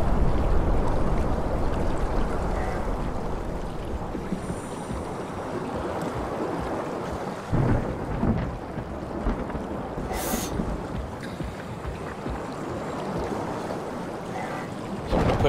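Rushing torrents of water and a storm in the video game SOMA: a steady, dense roar of churning water with rumbling low-end surges and a brief sharp crack near the middle, with no talking.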